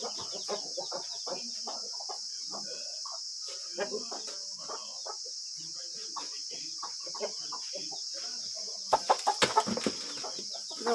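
Chicks and hens cluck and cheep steadily while being fed, with many short calls overlapping at close range over a constant high hiss, and a brief flurry of sharper sounds near the end.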